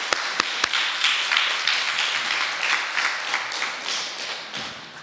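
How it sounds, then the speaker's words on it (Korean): A Korean church congregation in Freiburg applauds during a Sunday service, a scattered round of clapping in a room, opening with a few sharp claps and then settling into a fairly steady, moderately loud patter. "박수로 환영합시다."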